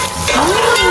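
Onions and garlic are stirred and sautéed in a pan, a loud close sizzle with a scraping stir across a brief moment.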